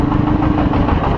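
A motorcycle engine idles in heavy road traffic, a close, steady low rumble with slight rhythmic pulsing, loud and continuous with no talk.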